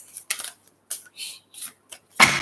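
Tarot cards are shuffled up close in a series of short papery riffles and flicks, several quick bursts with brief gaps and a louder snap at the end, with no talking.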